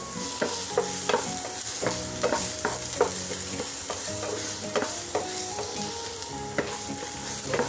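Minced onion and garlic fry in a pan, a steady sizzle broken by repeated clinks and scrapes of a utensil stirring against the pan.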